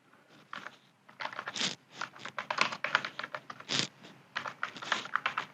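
Rapid, irregular clatter of keys on a computer keyboard while JavaScript code for a drawing app is typed, close and fairly loud, in uneven bursts with brief pauses and no talking.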